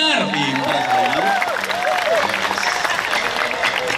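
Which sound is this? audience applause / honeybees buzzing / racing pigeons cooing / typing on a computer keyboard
audience applause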